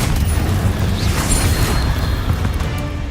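In Hogwarts Legacy the Confringo spell sets off a loud, rumbling fiery blast with a crashing, booming roar that holds steady for a few seconds.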